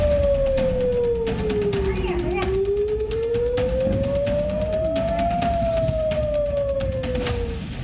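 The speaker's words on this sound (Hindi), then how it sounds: "यरूशलेम, टेल अवीव सहित इजराइल के तमाम शहरों में पूरी रात इजराइल के सायरन बजते रहे।" Air raid sirens wailing across Israeli cities such as Jerusalem and Tel Aviv during an Iranian attack, a loud continuous siren tone that falls, rises slowly and then falls again over steady background noise.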